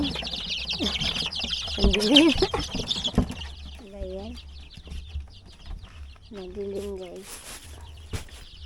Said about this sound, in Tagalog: Silip tayo sa mga sisiw natin.